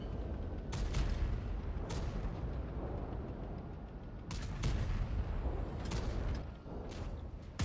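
Tank cannon explosions in World of Tanks Blitz, played in a Blitz Cup tournament match, boom repeatedly over a constant heavy rumble. Several sharp, loud shots land at irregular intervals.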